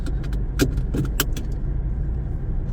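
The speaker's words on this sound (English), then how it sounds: "let me just quickly wear my seat belt so that you won't be hearing any annoying noises" Several sharp metallic clicks and rattles of a seat belt buckle being pulled and fastened inside a 2024 Tata Tiago facelift, over a steady low engine hum.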